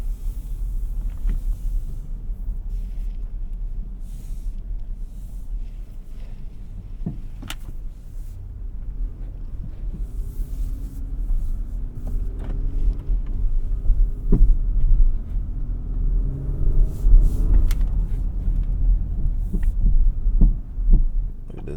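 An Acura MDX Type S SUV driving in sport mode, heard from inside the cabin as a steady low engine and road rumble that swells slightly as it pulls away, with occasional small clicks and creaks.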